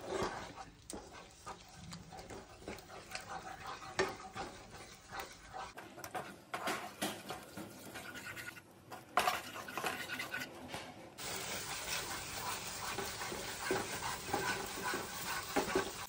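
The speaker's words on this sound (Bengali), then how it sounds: "দুধটা দেওয়ার পর কন্টিনিউ খুন্তি দিয়ে মেশাতে হবে, না হলে কিন্তু ধরে যেতে পারে" A spatula scrapes and clinks steadily against a pan as milk and spinach are stirred together while cooking, soft and close with faint kitchen noise around it.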